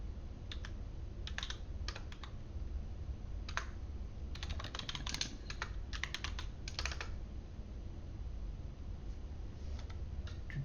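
Bursts of computer keyboard typing as commands are entered for a Cisco switch configuration: quick clusters of crisp key clicks separated by pauses, close and fairly soft over low background hum, no talking.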